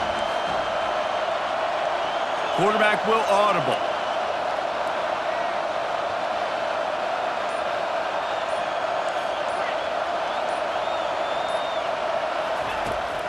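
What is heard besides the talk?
home crowd cheering in EA College Football 25 video game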